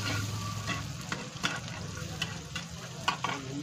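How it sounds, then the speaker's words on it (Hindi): Egg bhurji with tomato sizzles steadily in a pan at an Indian street food stall while a utensil stirs and scrapes the mixture, with several sharp clanks against the pan. "अभी इसको अच्छी तरीके से मिला रहे हैं।"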